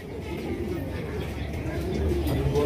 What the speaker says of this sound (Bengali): দেখতে পাচ্ছেন একদম বড় সাইজের রাজগোল্লা কবুতর